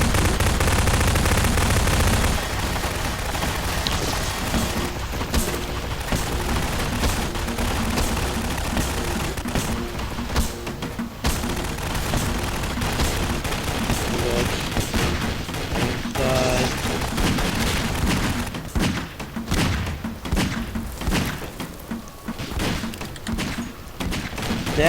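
Gunfire in the video game Garry's Mod, with rapid bursts of automatic shots and scattered single reports coming in uneven clusters, and a loud blast at the very start, with no speech.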